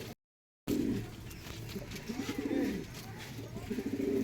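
A young female Andra pigeon coos in low, repeated throaty bursts after a brief dropout, fairly close and moderately loud, with faint rustling in the background.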